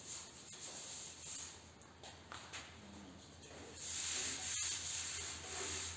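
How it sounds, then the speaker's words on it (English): Quiet rubbing of abrasive across body filler along a panel edge, a soft steady rasp with slight strokes, close and faint. "So when we sand it out, we'll just sand the edge off."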